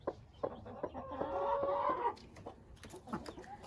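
A broody hen with four chicks makes soft close clucks and a longer drawn-out murmuring call, punctuated by faint high peeps from the chicks around her.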